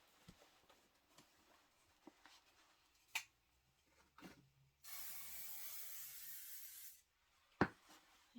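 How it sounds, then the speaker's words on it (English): A steady two-second hiss of aerosol adhesive sprayed close by onto the back of fabric, surrounded by quiet rustling, handling noises and a few sharp clicks. "I'm spraying the back side of your fabric."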